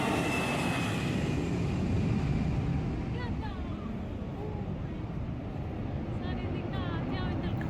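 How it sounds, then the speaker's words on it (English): Airplane engine roars steadily and loudly at Gibraltar airport during takeoff, a broad rumbling drone close by, with people talking over it. "a very unique experience to witness a plane taking off and landing at a very close distance"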